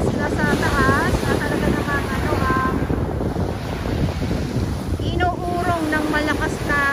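Strong waves and gusting wind at Manila Bay, a constant roar of surf with heavy wind buffeting against the microphone, while a voice talks at points over the noise.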